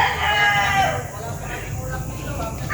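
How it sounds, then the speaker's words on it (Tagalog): Roosters crow close by on a game fowl farm, with one bird's drawn-out call standing out from farmyard noise while someone talks over it. "Ayan po yung kanilang manukan"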